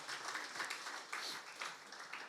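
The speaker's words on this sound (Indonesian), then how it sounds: "Tepuk tangan dulu buat Tuhan kita yang luar biasa." Church congregation applauding during a worship service, a steady wash of many hands clapping at moderate distance for a couple of seconds, with no one speaking over it.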